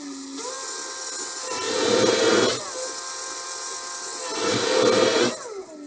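A Ryobi R18PD5 brushless cordless drill/driver whines steadily at close range, rising twice into louder, heavier bursts of higher-speed running before settling back, with no voices.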